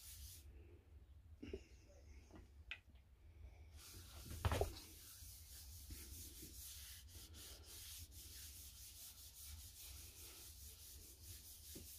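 A cloth rubs Danish oil onto an ash wood bowl with a quiet, continuous, close-up rubbing and wiping, marked by a few soft knocks.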